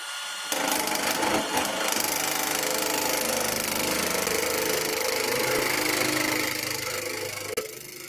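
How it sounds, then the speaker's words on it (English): A FEIN 18-volt cordless nibbler chewing through 22 gauge sheet metal: a continuous loud, buzzing mechanical rasp that starts abruptly, holds steady for several seconds, then tapers and stops with a final click. "So 22 gauge material, the FEIN 18-volt cordless nibbler."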